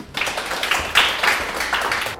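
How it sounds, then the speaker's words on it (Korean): An audience at a Korean civil service exam strategy seminar breaks into applause, a brief dense burst of many hands clapping that swells and fades, with no speech over it. "박수 한번 주십시오"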